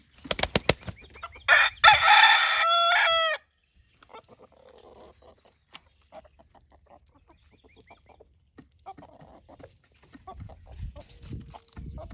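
A rooster kept apart from two others crows once, loud and close, followed by quieter clucks and scattered farmyard sounds, with faint movement near the end.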